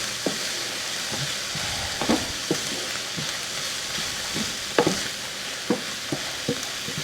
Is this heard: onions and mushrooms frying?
yes